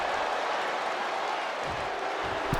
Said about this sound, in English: The crowd is behind Charlotte, and she knows it